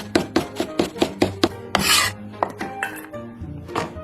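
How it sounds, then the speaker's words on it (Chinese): A kitchen knife slicing ginger into thin strips on a cutting board, a steady run of close, sharp chopping taps, then a brief scraping sweep and a few slower cuts. "咱们把姜切成丝儿"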